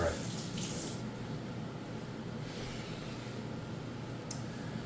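Tap water runs steadily into a kitchen sink while a hand is rinsed during stew cooking, a continuous broadband wash of fairly close, even-level flow with brief splashy bursts near the start.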